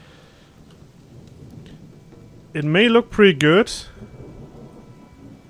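Rain and thunder in the video game Gothic 2, a steady hiss of rainfall with a low rumble underneath, while someone talks over it near the middle.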